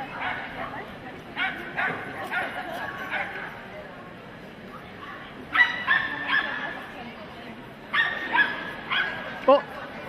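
A Parson Russell terrier at a small-dog jumping run during an international agility championship gives several sharp yips and barks in short bursts, with a Japanese commentator speaking over an arena crowd's steady murmur.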